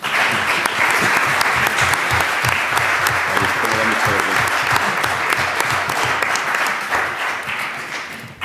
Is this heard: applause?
yes